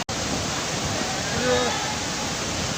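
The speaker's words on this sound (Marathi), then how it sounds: "बघू शकता तुम्ही धबधबा एकदम तिथून" The Devkund waterfall roars as a steady broadband rush of falling water, loud and continuous, with no speech.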